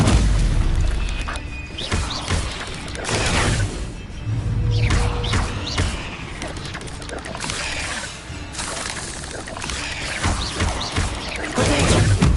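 Stupefy spells fly in Hogwarts Legacy combat, bursting as a string of heavy booms and crashing impacts with whooshing magic, loud and close, recurring every couple of seconds.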